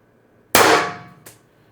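Single sharp .50 caliber BP50 rifle shot firing an LLB Vindicator round with a tuning barrel, a loud crack with a decaying ringing tail and a faint echo.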